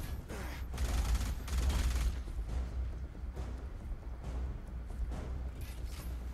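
Alien Rage video game combat, with bursts of gunfire and explosion booms coming in clusters and pausing between them, then fainter rattling shots over a low, steady background rumble.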